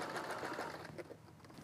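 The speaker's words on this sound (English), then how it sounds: "I usually just run it over on the sewing machine" A sewing machine runs a seam closing the lining of a boxed-corner zip bag, a steady close whirring hum that eases off partway through, with no talk.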